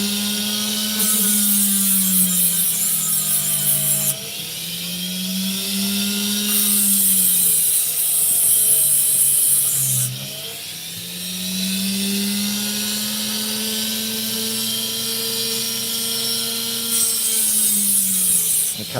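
An opal stone is cut on a powered lapidary saw or grinding wheel. A steady, loud whining grind with a rising and falling pitch is broken by short pauses at regular intervals, and no one speaks.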